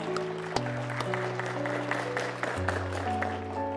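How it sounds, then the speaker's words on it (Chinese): Wedding guests clap as a couple is invited to walk in, a light broadband patter of applause running beneath loud, sustained ceremony music with held tones. "再一次响起你们最最热烈的掌声"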